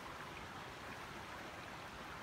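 A river runs beside a walking path in the south of France, heard as steady, continuous broadband rushing water, close and even throughout, with no voices.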